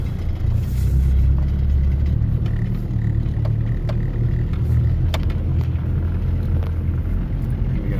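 Land Rover 300Tdi diesel crawling off-road in first gear, low range, on Yarra Mountain, a steady loud low engine drone with faint knocks and clatters from the vehicle over it and no talk.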